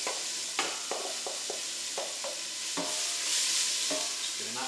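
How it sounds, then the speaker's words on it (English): Onions, peppers and carrots fry in a hot pan with a steady sizzle, broken by sharp scrapes and knocks as a utensil stirs them, close and moderately loud. "I'm just going to add our onions, our peppers and carrots into that now."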